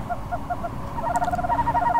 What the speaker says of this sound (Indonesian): Ranting pohon bergoyang suara burung hantu terdengar